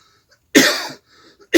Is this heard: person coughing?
yes